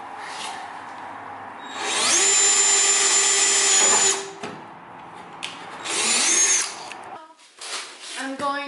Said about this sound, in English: drill 2 holes at the end of these and then step them up with a step bit